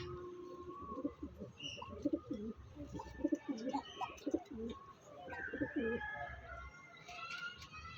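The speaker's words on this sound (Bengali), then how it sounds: "এটা মাদা পায়রা" A female Andhra pigeon coos in soft repeated bursts close by, low throaty calls rising and falling with brief pauses, with faint chirps in the background.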